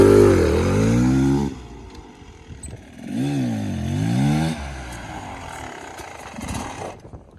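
An enduro motorcycle revving hard in bursts, three rising and falling engine surges separated by quieter idling and braking, fairly close and loud.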